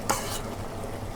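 Beef tripe frying in oil while being stirred, with a steady sizzle throughout and a couple of sharp scraping clinks of a utensil against the pan near the start and end.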